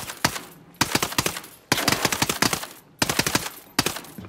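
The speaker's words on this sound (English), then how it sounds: "Hostiles are shooting." Bursts of automatic gunfire from hostile enemies in a video game, rapid rattling volleys in four or five separated runs, loud and close, with no talk over them.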